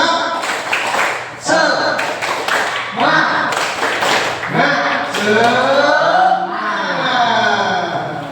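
A classroom of students does a rhythmic spirit clap, sharp patterned bursts of claps and taps alternating with loud talk and cheering voices nearby.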